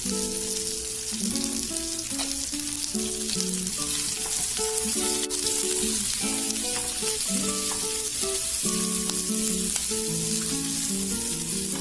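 Onions and tamarind frying together in a pan for Telugu onion chutney, with a steady close sizzle that runs unbroken throughout, faint tonal hum beneath and no talk.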